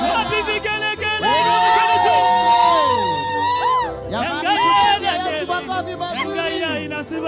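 A church crowd in Kajiado, Kenya, ululates and cheers loudly for the arriving president, with high wavering trills rising and falling over a dense, sustained roar of voices.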